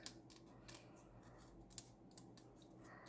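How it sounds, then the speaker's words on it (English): Big scissors snipping through paper in a glue book craft, a few quiet soft cuts in a row, close but faint, with no talking. "I'm going to snip right through it, though, with the big scissors"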